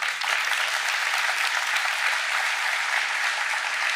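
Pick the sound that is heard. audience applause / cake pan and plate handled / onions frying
audience applause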